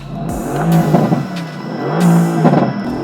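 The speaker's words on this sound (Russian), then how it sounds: "При перегазовках на месте слышны раскаты грома, стрельба, взрывы." A Mercedes AMG GT S revs at a standstill, its exhaust roaring up and dropping back in two loud, close blips, each rise and fall clearly separated.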